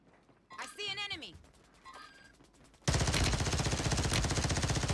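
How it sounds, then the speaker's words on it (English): Rapid automatic gunfire in Call of Duty Warzone on Rebirth Island bursts in loud and continuous after a stretch of quieter game sounds and a voice. "he was just shooting and he didn't touch him"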